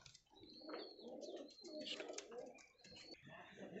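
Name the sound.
pigeon cooing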